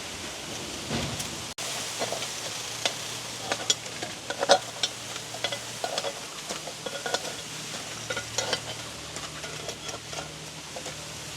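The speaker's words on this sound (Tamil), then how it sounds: "இப்படியே நாங்கள் எல்லா குண்டு தோசையும் சுட்டு எடுப்போம்." Kundu dosa batter cooking in a pan, with a steady sizzle and frying crackle and scattered small pops and stirring clicks, fairly close and continuous, with no talking.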